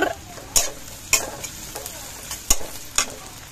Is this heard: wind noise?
no